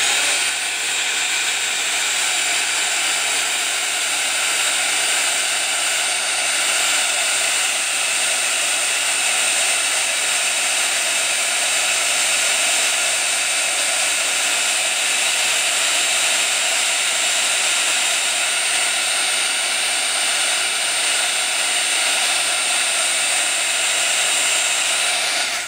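A heat tool blows a constant, loud stream of hot air to heat set glue strings, a steady whooshing hiss with no pauses and no talk.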